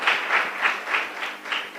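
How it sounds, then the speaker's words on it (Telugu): A church congregation claps loudly in steady rhythmic bursts, about six even beats, close and dense with no talk over it. "గట్టిగా చప్పట్లు కొడుతూ"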